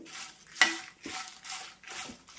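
Dried red chillies and tamarind are stirred while roasting in a pan, each scrape of the spoon making a soft, close swish about every half second over a faint sizzle.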